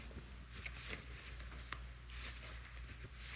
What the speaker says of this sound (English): Let's reshuffle, and then we'll get to the tea.